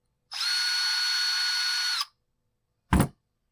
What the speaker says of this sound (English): So we get these two screws out of here